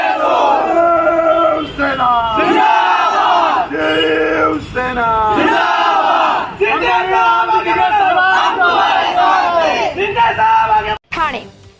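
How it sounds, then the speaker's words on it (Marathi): Shiv Sena supporters celebrate outside MP Dr Shrikant Shinde's office in Thane, a loud crowd chanting slogans in unison with rhythmic, surging shouts and whoops that rise and fall in waves, close and continuous. "खासदार डॉक्टर श्रीकांत शिंदे यांच्या कार्यालयाबाहेर शिवसैनिकांचा जल्लोष"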